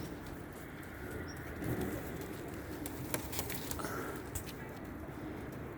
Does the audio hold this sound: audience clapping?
no